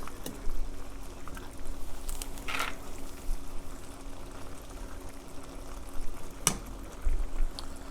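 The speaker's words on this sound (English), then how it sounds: "we'll let it simmer a little bit more for the salt to dissolve" Paneer chilli sauce simmering in a pan gives a soft, steady bubbling and sizzling hiss, with a few faint clinks, and no talking.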